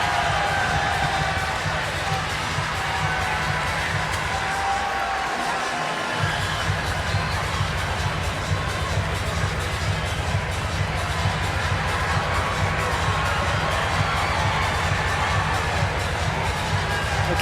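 A packed Amalie Arena in Tampa roars through an NCAA volleyball semifinal between Texas and Wisconsin, a loud, continuous crowd din of cheering and shouting that never lets up.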